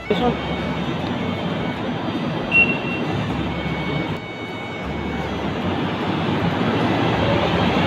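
A KTM commuter train at a station near Batu Caves, Malaysia, with a continuous loud rumble of rail noise and a faint high whine. It sounds nearby and steady over the whole stretch.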